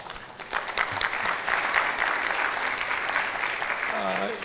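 An audience at an education conference claps together in a steady, fairly loud burst, with a voice briefly audible near the end.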